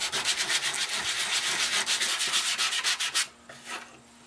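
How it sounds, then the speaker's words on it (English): Wood slice coasters are hand-sanded with sandpaper in small circles, making a close, rhythmic rasping scrub of quick repeated strokes that stops near the end, leaving a few softer rubs. No one speaks. "So I'm going to sand them down a bit. As you sand, you want to sand and make circles"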